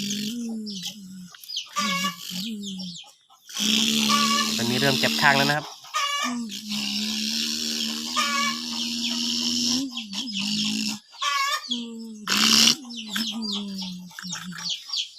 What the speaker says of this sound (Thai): ก็มีเสียงไก่ใครรบกวน